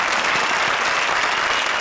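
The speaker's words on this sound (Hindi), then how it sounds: "जोरदार तालियां निगार और राजा के लिए।" A studio audience at a comedy show applauds loudly and steadily, a dense even wash of clapping with no break.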